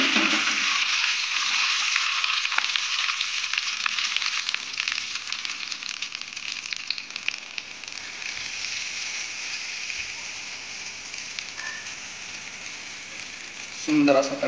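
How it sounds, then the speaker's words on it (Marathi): Cumin, mustard seeds and curry leaves sizzle loudly in hot oil as a tempering, a dense crackling hiss that eases over time before a brief clatter near the end. "सुंदर असा तडका बसलेला आहे"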